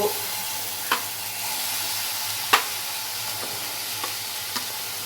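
Chopped capsicum pieces frying in two spoons of hot oil, a soft steady sizzle with a faint hum beneath and a few spaced clicks of a spoon stirring.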